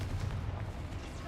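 The Confringo fire spell cast in Hogwarts Legacy, a brief loud rumbling boom with a low explosive roar that fades quickly, overlapping a spoken voice.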